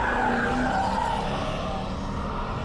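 Lexus sedans on a race track, an IS200 Sport and an IS F, slide through corners with a continuous loud tire squeal and skid over a steady engine roar, close to the microphone.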